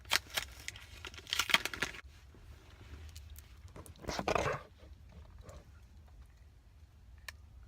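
Chocolate piece being unwrapped outdoors in a park, short bursts of crinkling wrapper and rustling, close and soft, with quieter pauses between.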